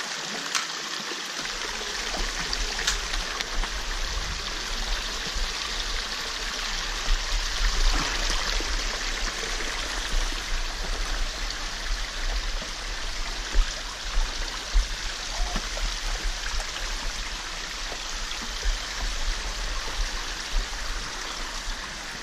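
Rain-fed water from the mountain rushes steadily down at Lohagad Fort, a continuous broad wash of flowing stream noise that stays even and close throughout, with no voices over it.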